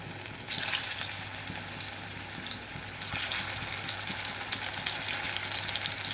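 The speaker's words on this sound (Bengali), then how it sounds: "তেল আমার গরম হয়ে গেছে। এই আলু সিদ্ধগুলো আমি একে একে এর মধ্যে দিয়ে দেবো আস্তে আস্তে।" Boiled potatoes go one by one into hot oil for Kashmiri aloo dum, giving a steady, close sizzle and crackle with a low hum underneath and no speech.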